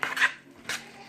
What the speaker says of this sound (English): I hate that sound of my spoon hitting the side of this bowl.